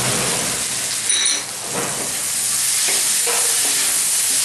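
Cumin powder being stirred into a Bengali-style hilsa fish curry in a pan, with a steady broadband sizzle and a few brief scraping strokes heard close up, no voices.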